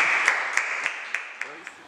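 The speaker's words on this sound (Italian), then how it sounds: "un applauso, un applauso" An audience at a music high school showcase in Alcamo claps, a soft spread-out patter with a few sharper individual claps standing out, briefly heard in a room.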